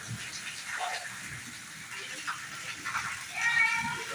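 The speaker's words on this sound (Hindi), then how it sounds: "यही वर्षर प्रथम वर्षा स्टार्ट हो गला" Heavy first rain of the year falling in a village in Angul, with a light wind: a steady broadband hiss of downpour runs throughout, with a person talking over it.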